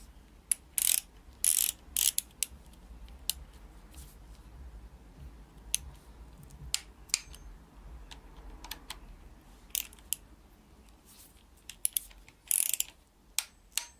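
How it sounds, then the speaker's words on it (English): A torque wrench clicks and ratchets while tightening VANOS timing bolts on a BMW inline-six engine (M52TU/M54/M56), with sharp close clicks in short clusters over a low steady background hum. "We're gonna set this torque wrench for"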